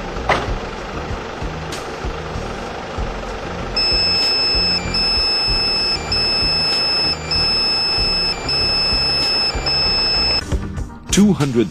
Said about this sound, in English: the T-Rex Ultimate will also set off a siren of 120 decibels to warn and stop the thief from stealing the car